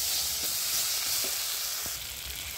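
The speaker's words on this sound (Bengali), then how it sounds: "ভালো করে মশলাটা আমার কষিয়ে নিতে হবে যতক্ষণ না আদা রসুনের কাঁচা গন্ধটা চলে যাচ্ছে" A spice paste of tomato, ginger and garlic sizzles in a pan, with a soft continuous hiss and a few light stirring clicks and scrapes.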